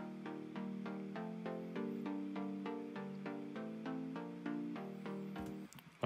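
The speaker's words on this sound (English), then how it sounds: "And the preset is basically made from a saw wave" Sylenth1 saw-wave synth preset playing chopped, rhythmic EDM chords in short, evenly pulsing stabs, bright and buzzy, alone with no voices.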